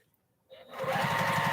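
A sewing machine stitching quilt blocks for a postage-stamp quilt top starts up after a brief pause and hums in a fast, even, close-up stitching rhythm.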